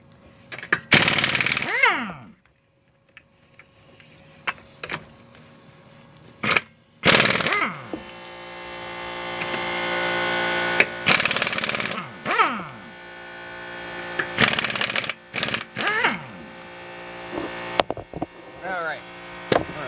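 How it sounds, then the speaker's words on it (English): An impact gun loosens lug nuts on a 2008 Subaru Legacy during a front brake job, in several loud, rattling hammering bursts separated by pauses, with close clanks and a voice speaking in between. "Got an impact gun here. Go ahead and put it on loosen and take these off here."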